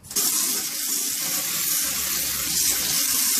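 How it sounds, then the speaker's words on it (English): A garden hose sprays water steadily onto an old wooden deck being cleaned before staining, a loud, continuous close-up hiss that holds through the whole stretch with no voices. "I don't really use a pressure washer here. I'm actually using a hose."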